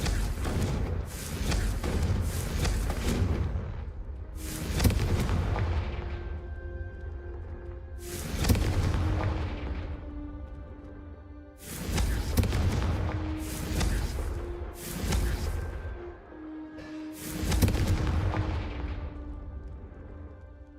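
Confringo blasting spells exploding in Hogwarts Legacy, a run of heavy booming blasts that repeat every few seconds over a constant rumbling game background, with no speech.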